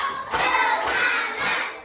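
Pupils in a classroom perform a counting clap game, a few loud rhythmic bursts of group hand clapping in quick succession, close and without talk.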